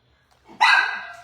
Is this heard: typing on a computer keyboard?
no